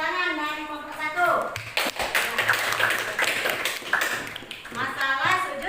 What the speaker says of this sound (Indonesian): tepuk tangan dari kelompok 1